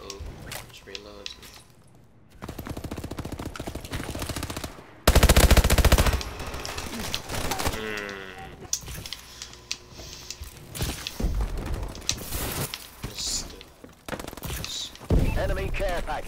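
Rapid automatic weapon fire in a Call of Duty–style first-person shooter, with repeated bursts and sustained volleys between pauses, loud and close, alongside game effects and someone talking.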